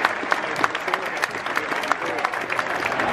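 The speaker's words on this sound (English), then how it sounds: "Round of applause in the 7th minute for Cristiano Ronaldo." Stadium crowd at an Arsenal versus Manchester United football match applauding for Cristiano Ronaldo in the seventh minute; sustained clapping from a large crowd with sharp individual claps standing out, and a voice heard over it.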